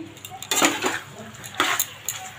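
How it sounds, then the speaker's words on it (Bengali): A spoon stirs chilli powder and salt in a cooking pan, giving a few sharp metallic clinks and scrapes in irregular bursts, close and fairly quiet, with no talking. "এটা এখন কষতে থাকি"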